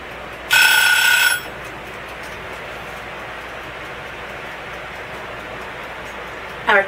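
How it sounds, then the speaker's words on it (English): A kitchen timer goes off while scones bake in the oven, a loud, shrill electronic beeping burst lasting about a second, then a brief second chirp at the end over quiet room noise. "Our timer just went off"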